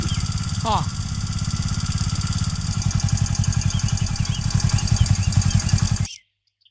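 A motorcycle engine idles close by with a steady, throbbing mid-range rumble that builds slightly louder before cutting off abruptly near the end, followed by silence.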